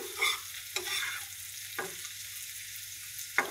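Dried ribbonfish frying with green chilies in a pan, stirred with a few distinct scraping strokes over a soft continuous sizzle, close and alone.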